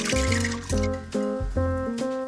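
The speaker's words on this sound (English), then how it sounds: "Pour in 200 milliliters of water and now mix it all together." Water being mixed with yeast and sugar for bread dough, with wet squishing and sloshing strokes repeating in a steady rhythm, close and fairly loud, alongside a sustained tonal hum with no talk.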